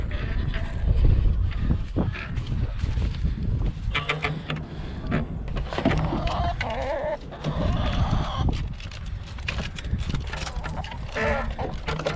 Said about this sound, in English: Letting the chickens out this morning.